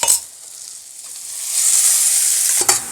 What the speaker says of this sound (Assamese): তাৰপিছত এনেদৰে অলপ ভাজিব লাগিব